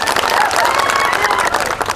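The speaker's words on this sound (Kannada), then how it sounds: "ಅದಕ್ಕೆ ನಿಮ್ ಚಪ್ಪಾಳೆ ಬೇಕಾಗ್ತದೆ." Sustained applause from a political rally audience, dense and steady clapping from a large crowd throughout, with faint voices mixed in.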